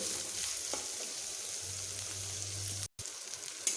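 Onions fry toward light brown in a pan, giving a close, even sizzle with faint stirring, steady throughout apart from a brief cut-out near the end, and no talking.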